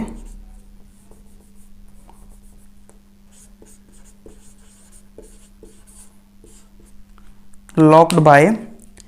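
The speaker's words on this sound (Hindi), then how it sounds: "उससे पहले मैं एक और पॉइंट लिखता हूं" A pen writes a note during a Hindi-language lecture on DNA packaging. Soft, faint scratching strokes continue steadily at close range, and a brief, louder voiced sound breaks in near the end.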